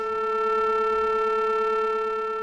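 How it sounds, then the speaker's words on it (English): A steady synthesizer tone from a Joranalogue Collide 4 module, a rectified sine wave sounding one octave higher, held constant and alone with a bright, buzzy harmonic edge. "So it creates this this bunny hop waveform, for lack of a better word, which is 1 octave higher."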